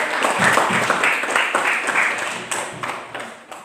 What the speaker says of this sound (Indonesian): berikan aplaus untuk kelompok